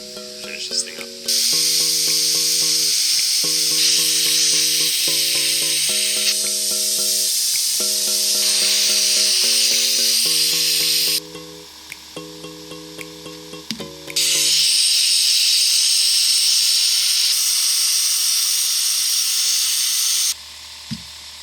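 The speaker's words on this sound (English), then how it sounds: "I'm going to do some plasma cutting tonight" A plasma cutter cutting metal on a Ford F-250/F-350 truck with a Dana 60 axle, loud sustained hissing bursts of several seconds each, a short sputtering break between them, with tonal music playing underneath.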